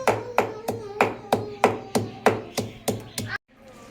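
Fresh brahmi leaves crushed on a shil-bata grinding stone, giving about a dozen evenly spaced, close knocking thuds in a steady rhythm before stopping abruptly.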